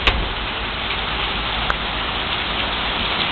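A steady rainstorm pours down outside a home, dense hissing rainfall filling the scene evenly throughout, with a couple of sharp drip or tap sounds standing out briefly.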